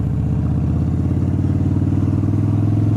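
Motorcycle with a slip-on exhaust idling steadily around 1000 RPM, a loud, close, even low hum with a fast regular pulse and no variation.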